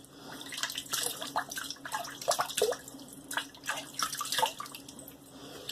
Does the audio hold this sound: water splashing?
yes